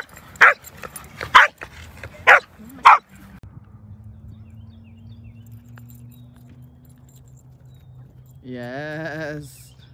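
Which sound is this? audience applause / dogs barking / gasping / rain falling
dogs barking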